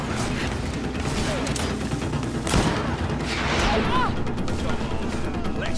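Rapid bursts of gunfire in the video game GreedFall crackle over a dense, busy game soundscape with music and effects.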